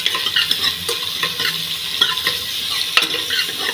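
Two ground onions sauté in a cooker for country chicken biryani, giving a steady, close sizzle of frying with occasional stirring scrapes and clinks. No voices are heard.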